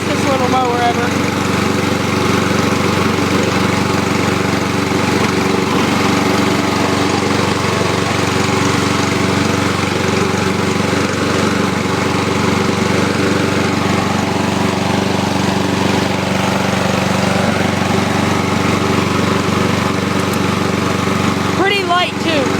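A 2011 Lawn-Boy self-propelled walk-behind mower runs at a steady, loud, constant drone close by, with no break in the engine note throughout.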